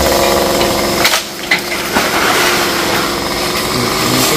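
A chainsaw whines at high pitch, dipping briefly as it bites into a tree branch, then revving on steadily and loudly throughout.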